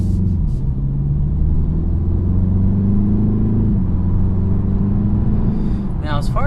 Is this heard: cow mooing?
no